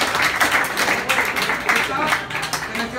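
An audience at a Dominican community leaders' gathering bursts into brief applause, quick uneven clapping rising and falling over about three seconds amid murmuring voices.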